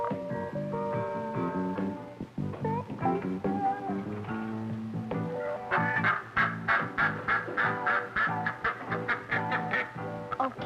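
A duck quacking in an old 16mm educational film, a run of loud, rapid nasal calls in the second half over a steady musical soundtrack.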